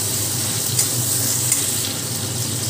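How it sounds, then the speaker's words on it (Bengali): Ginger paste frying in a hot pan while being stirred, giving a steady, close sizzle throughout with two brief sharper stirring scrapes and no talking. "আদা বাটা দিয়ে আগে একটু নেড়ে নেব যাতে কাঁচা গন্ধটা না থাকে"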